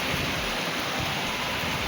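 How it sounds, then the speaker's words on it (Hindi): Heavy rain pours down in a dense, steady hiss, loud and unbroken throughout, with no voices. "देखिए दोस्तों, कितनी तेज बारिश हो रही है।"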